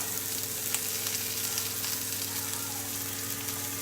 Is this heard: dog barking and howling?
no